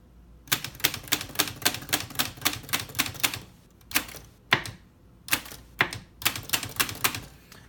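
Keys clack on a 1948 Olivetti MP1 manual typewriter, a quick run of sharp, evenly spaced strikes, a short pause, then a few separated strokes and another fast burst, close and loud with no voices.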